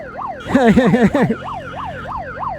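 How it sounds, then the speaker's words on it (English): A wailing siren on an escort vehicle at a cycling race, loud and close, cycling up and down in steady sweeps, with a harsher, louder burst in the first second. "Put on the siren."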